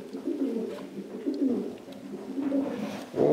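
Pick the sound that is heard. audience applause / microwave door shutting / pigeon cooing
pigeon cooing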